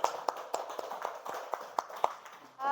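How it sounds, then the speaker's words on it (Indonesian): Applause for a student group in a classroom, a sparse, faint run of individual claps at a quick, fairly even rhythm from only a few hands. "Kita berikan aplaus dulu kepada kelompok 5 dan kita semua"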